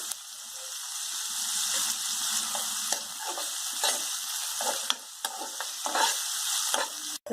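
Sliced onions and curry leaves fry in a pan for a ridge gourd and tomato curry, a steady loud sizzle running throughout with scattered scrapes and pops from stirring, and no talking.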